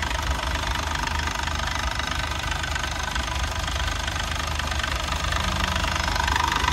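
Yuchai 260 engine with all-original parts idling smoothly, a dense, steady, loud mechanical rumble with a faint rapid knock running unchanged throughout, close by.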